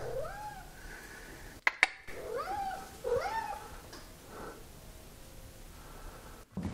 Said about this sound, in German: Oh, die Katze ist draußen. Die Katze will herein.